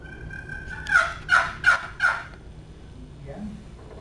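Four loud turkey gobbles from an old wild gobbler in spring wetlands come in quick succession, each a rattling burst, followed by fainter calls trailing off.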